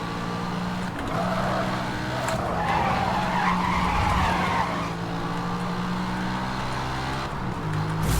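A car skids sideways, tires squealing, in the 2010 racing game Need for Speed: Hot Pursuit. A loud, continuous scrub of tire noise over a droning engine lasts several seconds, with no voices.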